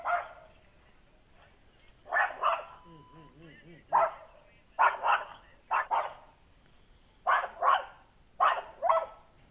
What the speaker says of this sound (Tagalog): galit yung aso sa akin oh